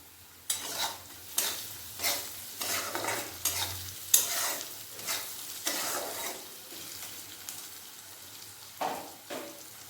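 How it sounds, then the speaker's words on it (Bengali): Onion with salt and chopped green chili fries in a pan, with about a dozen rhythmic stirring strokes scraping over a soft, continuous sizzle. "পেঁয়াজ ভাজা ভাজা হয়ে গেছে"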